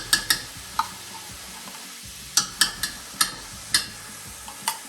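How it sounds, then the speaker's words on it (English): Tomato paste stirred into a hot pan for chicken riggies: a steady sizzle under repeated sharp spoon taps and scrapes against the pan, close and alone. "I'm gonna add my my tomato paste"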